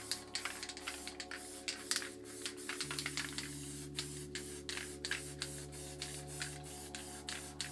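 A Clash spray paint can hisses in a run of short, sharp bursts against a steady background hum as paint goes onto an art piece, with quick pauses between sprays.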